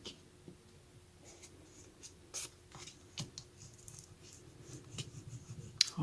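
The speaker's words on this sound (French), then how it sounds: "Ensuite, je vais plier cette partie-là qui va aller à l'intérieur." Paper card being folded by hand gives soft, close rustles and scrapes with a few sharper creasing sounds, quiet overall and without speech.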